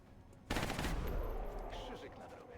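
Gunfire in the Long War mod of the XCOM video game: a sudden, loud burst of shots hits after a brief quiet moment, then rings out and slowly fades.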